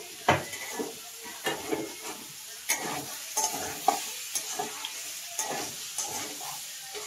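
Green peas frying in a pan with a soft continuous sizzle, punctuated by repeated scraping and clinking strokes of a spoon stirring them, each stroke a short sharp accent close by.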